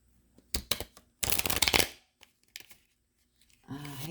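Cards from a small, short deck being shuffled in a few quick riffling bursts, the longest in the middle, with a low voice starting up near the end.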